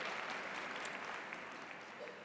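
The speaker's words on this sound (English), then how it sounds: "Certainly, we can applaud that." Applause from an audience at a college commencement ceremony, a steady, faint, distant patter of many hands clapping throughout.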